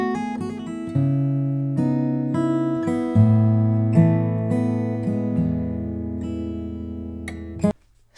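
A home-recorded guitar passage captured on a Shure 137 microphone, with sustained notes and chord changes played close and fairly loud before ending abruptly near the close; no voices.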